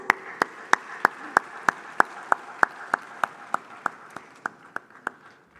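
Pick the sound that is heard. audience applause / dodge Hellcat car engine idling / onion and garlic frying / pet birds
audience applause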